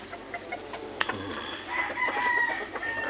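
A backyard chicken clucking close by, a short run of quick clucks with a sharp crow-like note near the start, over steady outdoor background noise and no talk.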